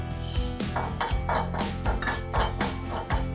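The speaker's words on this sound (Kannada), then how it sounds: "ಮೆಂತ್ಯನ ಇವಾಗ ಹುರ್ಕೋಬೇಕು" Fenugreek seeds are dry-roasted in a pan with a metal spoon, giving rapid repeated scraping clinks close up, in a steady rhythm.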